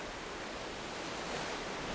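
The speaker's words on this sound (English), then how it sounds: "this is what our ocean-facing balcony sounds like" Steady broadband ambient wash on an ocean-facing balcony of the cruise ship Icon of the Seas, like wind and sea spray mixed with distant ship and deck noise, continuous and even with no clear breaks or voices.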